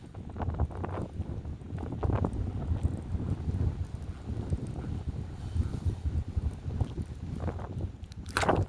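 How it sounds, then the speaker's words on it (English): Steady, strong wind buffets the microphone outdoors while fishing with an ultralight rod, a continuous low rumbling roar with gusty swells throughout. "this wind is really kicking my butt right now"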